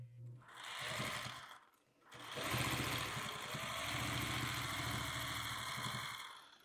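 A sewing machine stitches quilt pieces, running in a steady rapid hum with a short pause before starting again and continuing to the end.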